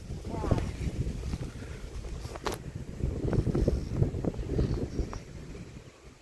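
Gusty wind ahead of an approaching thunderstorm buffets the microphone outdoors in uneven, rumbling bursts, close and rough throughout.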